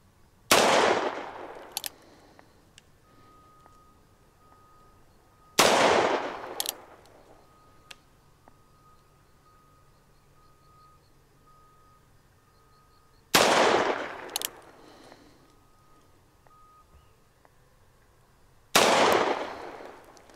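Four loud, sharp revolver shots from a Ruger Super Redhawk Alaskan .454 Casull fired outdoors, spaced several seconds apart, each with a booming echo that trails off.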